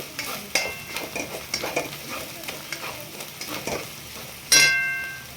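Red chili powder being stirred into a fried onion and coconut paste for Maharashtrian masala, with a steady sizzle, repeated scraping strokes of a spoon in the pan and one sharp metallic clank near the end.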